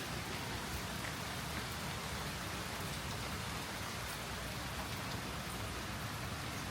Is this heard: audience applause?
no